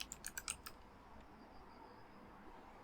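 Quick burst of about half a dozen crisp computer keyboard keystrokes at the start, close and clear, followed by quiet room tone for the rest.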